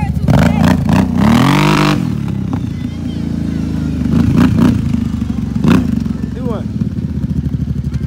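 A Yamaha Raptor 700 ATV engine revs hard as the rider pulls a wheelie, a loud close rasping roar that surges and falls with throttle blips, while people shout and talk over it.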